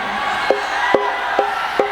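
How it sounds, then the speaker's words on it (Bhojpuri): A crowd at a live stage show cheers and hollers in a continuous roar, with four sharp, evenly spaced claps or beats cutting through the noise. "एक बार जोरदार ताली बजाइए आदित्य जी के लिए।"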